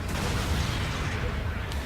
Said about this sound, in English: That's Zaku cannon again. I mean the not Zaku cannon, the gun cannon again.